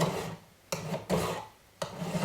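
Three rasping strokes of a metal file on sterling silver, each a long scraping rub separated by short pauses, close up and without talk.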